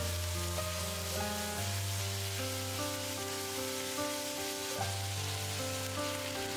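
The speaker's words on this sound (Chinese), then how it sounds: "继续翻炒" Pork stir-fried in a wok with a spoonful of sweet bean paste and a spoonful of soybean paste, a steady close sizzle that runs the whole time with the faint scrape of stirring and no voices.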